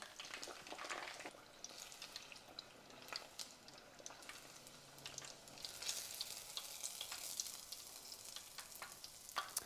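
A fish fillet deep-frying in hot oil at about 365 degrees, with a soft, continuous sizzle and a scatter of popping crackles, quiet and unbroken throughout.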